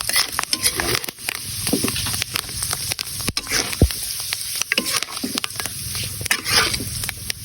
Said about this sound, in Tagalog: Ilagay na natin ang ating aswete. Yan. Ilagay na mas marami para mas makulay mga pare ko.